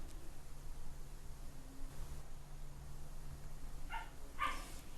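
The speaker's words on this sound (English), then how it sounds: "Please excuse my dog." A dog barks in a short burst of two or three yips near the end, faint and somewhat distant over a quiet room hum.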